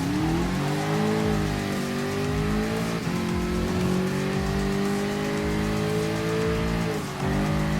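Group 3 race cars in the Gran Turismo Sport video game at the Mount Panorama circuit, a loud continuous engine whine rising and falling through gear changes with occasional tire squeal.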